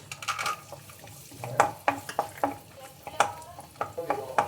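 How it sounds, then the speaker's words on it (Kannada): Cashews and raisins fry in ghee in a pan, a soft sizzle broken by repeated sharp scrapes and clinks of a spoon stirring, close up. "ತುಪ್ಪ ಹಾಕ್ಕೊಬಿಟ್ಟು ಗೋಡಂಬಿ ಮತ್ತು ದ್ರಾಕ್ಷಿನ ಫಸ್ಟು ಹುರಿದು ಇಟ್ಕೊಳ್ಳೋಣ"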